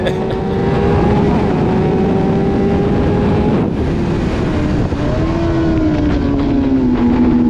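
Racing motorcycles at The Ridge Motorsports track, a loud, close, continuous engine drone whose pitch rises and falls with throttle and gear changes throughout.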